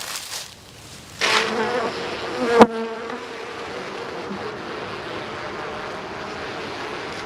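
Honeybees clustered inside a hive after a winter storm give off a steady buzzing hum that rises when the hive is opened. A sharp knock rings out midway through, and the hum carries on to the end.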